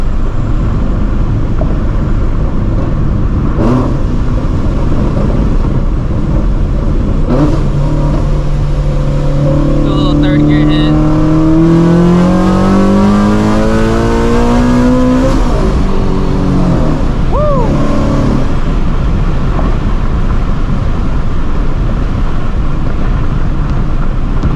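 A Procharged, supercharged Shelby GT350 engine on full-throttle pulls, a loud sustained roar that climbs steeply in pitch through the gears with a supercharger whine, then backs off and revs again, close and dominant throughout.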